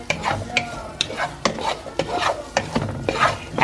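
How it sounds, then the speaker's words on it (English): Seasoned potatoes being stirred in a pan make repeated close scraping and rubbing strokes in a quick rhythm over a soft sizzle, with no speech. "you're gonna go ahead and stir it."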